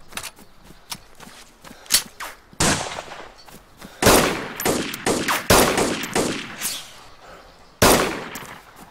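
Gunshots from the video game DayZ, with sharp single shots and loud rapid reports scattered unevenly through the stretch, some close and heavy, others fainter, without speech.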